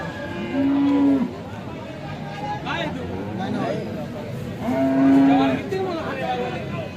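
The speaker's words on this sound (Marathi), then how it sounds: "चांगली गाई आहे, घरगुती गाई आहे." A cow moos twice, long low calls a few seconds apart, close by, with people talking in the background between the calls at a cattle market.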